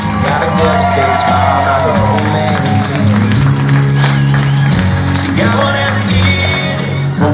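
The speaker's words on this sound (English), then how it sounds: "Please give your bride and groom a huge round of applause" A wedding reception crowd applauds, cheers and whoops for the bride and groom, dense and loud throughout with shouts and music-like tones underneath.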